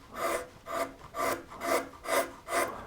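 A flat carving tool scrapes ridges off a wooden surface in six even strokes, each a soft rasping rub about half a second apart. The sound is close and quiet, with no voices.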